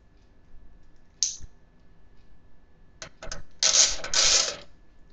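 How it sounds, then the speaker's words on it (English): Screws driven into a computer case panel for a home office PC build: a brief high squeak, then several short metallic clicks and two longer grinding bursts of screwdriver turning, close and alone. "grab the screws, screw them in"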